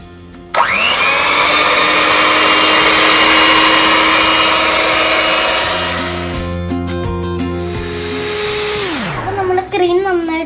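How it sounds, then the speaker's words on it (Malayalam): Electric hand mixer beats whipping cream for a biscuit pudding, a loud steady whir that runs near and constant, dips in pitch partway through, then winds down as the motor stops. "ആ സമയം കൂടെ നമ്മുടെ വിപ്പിംഗ് ക്രീം ഒന്ന് നന്നായിട്ട് ബീറ്റ് ചെയ്തെടുക്കാം."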